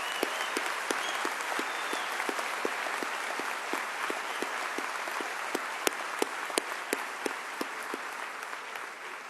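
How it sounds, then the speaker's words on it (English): Audience applause fills a University of Vermont convocation hall in 2007: dense, sustained clapping from a large crowd, steady for the whole stretch, with sharper individual claps popping out above the wash. "Please join me in a big round of applause for everyone who has worked so hard to carry"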